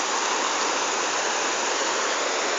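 Floodwater from Typhoon Sendong rushing through Tibasak in Cagayan de Oro, a loud, continuous, broadband roar of churning water with no break and no voices.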